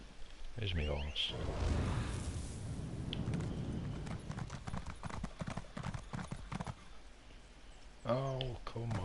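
Horse hooves clip-clop steadily in Elder Scrolls Online, a fast run of close, even hoofbeats with a neigh at the start and another near the end.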